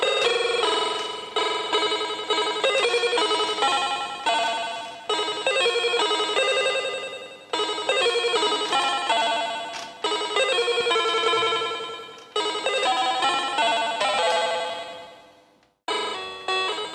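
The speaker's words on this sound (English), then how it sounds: "And you get this interesting chiptune sounds." A circuit-bent cheap toy piano set to FM mode gives off bright, buzzy chiptune tones in choppy bursts, with quick note changes and brief gaps between phrases and a short silence near the end.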